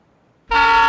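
In the Escape from Tarkov video game, a vehicle horn blares without warning. It is a loud, sustained, brassy honk that cuts in halfway through after near silence and holds to the end.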